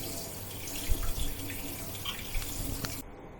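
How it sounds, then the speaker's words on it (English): Tap water runs steadily into a sink while a whole fish is rinsed under it, with soft splashes and small knocks against the basin before the flow cuts off. "you still need to remove the scale and wash the fish thoroughly"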